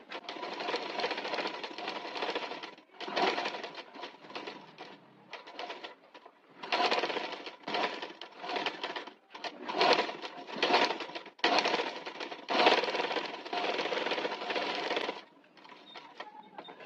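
A sewing machine stitches a blouse patch-work piece in repeated bursts of steady whirring, starting and stopping many times with short pauses between runs, close and loud with no talking.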